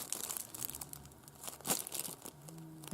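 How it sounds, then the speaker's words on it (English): A plastic bag crinkles and rustles close by while a Hornby King James I model locomotive is unboxed, irregular crackling handling noises over a low background hum, with no talking. "Here's that plastic bag of his"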